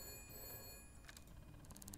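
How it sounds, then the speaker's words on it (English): A telephone rings in the detective video game Shadows of Doubt, a faint, quiet electronic trill in short repeated bursts over low ambient noise. "Yeah, but the phone's ringing."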